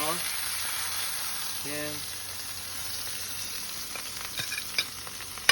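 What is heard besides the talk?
pork chop frying and sizzling in a pan with oil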